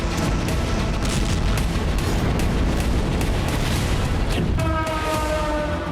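Heavy Russian bombardment in Ukraine, with explosions and rumbling blasts that fill the whole clip as a loud, continuous, dense roar. No voices are heard over it.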